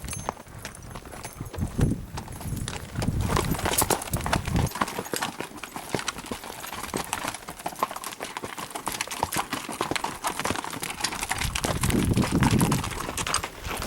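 Horses walk along a mountain trail near Ross Lake, hooves clip-clopping in a steady uneven rhythm, close and fairly loud, with an occasional snort and rustle of tack.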